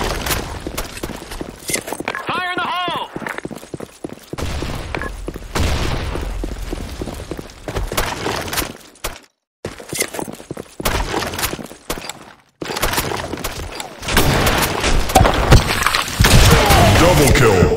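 Explosions and gunfire from an office-map video game firefight, with repeated bursts and booms across the clip, several short drops to near silence, and a dense loud stretch at the end; voices and game announcer lines occur in places.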